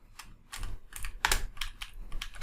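Close, clicky keystrokes on a computer keyboard, about a dozen taps in an uneven rhythm over a low background rumble, with no talking.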